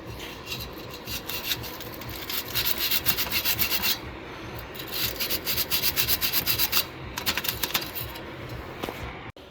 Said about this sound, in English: Just using a 1/2 inch fitting brush.